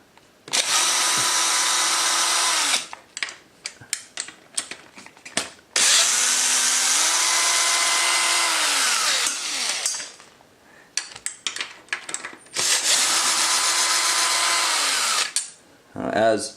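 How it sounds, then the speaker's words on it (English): A power tool runs in three long, loud bursts while removing the 10mm hex head bolts that hold the factory fender on a KTM 390 Duke motorcycle, with clicks and rattles of handling between runs. "To pull the factory fender is going to be 4 10mm hex head bolts that we just need to remove."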